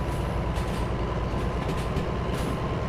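A train in the railway game Derail Valley rumbles loudly and continuously with its brakes on, steady wheel and rail noise filling the whole stretch with faint squealing.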